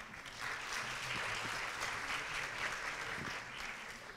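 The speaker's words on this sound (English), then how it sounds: "let's give a round of applause to group number 6" Audience applause at a university youth forum closing ceremony for presentation group number 6, steady, dense clapping filling the room for about four seconds at moderate loudness.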